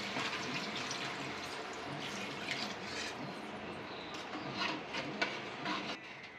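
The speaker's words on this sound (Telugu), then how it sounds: "ముక్కలు ఇట్లా కొంచెం మునిగేటట్టు చింతపులుసు పోసుకోవాలి." Tamarind juice is poured over fish pieces for a Telangana-style fish curry, producing a soft, continuous splashing and trickling liquid sound, fairly faint and close, with no talk.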